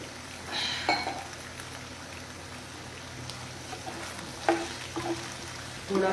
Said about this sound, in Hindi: पनीर को भी थोड़ा ही फ्राई करना है।